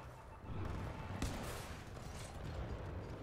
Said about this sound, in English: Oh! Archer rockets.